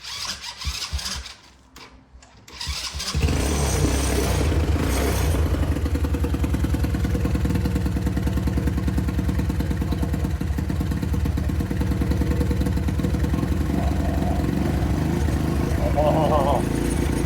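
A mini baja engine runs lean after starting, a steady, loud mid-pitched buzzing drone that holds after a brief startup clatter. Voices are heard over it.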